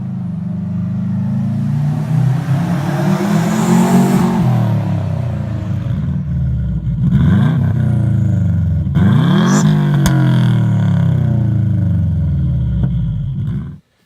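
A Subaru WRX with an aftermarket Spec D catback exhaust revs repeatedly, its raspy exhaust note climbing and falling in several loud sweeps before cutting off abruptly.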